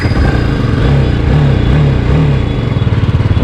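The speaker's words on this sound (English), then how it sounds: "Let's go, let's hit the ignition." A 2021 BMW G 310 R BS6 motorcycle engine starts and settles into a steady, close, loud running idle with a rhythmic low throb, no voices.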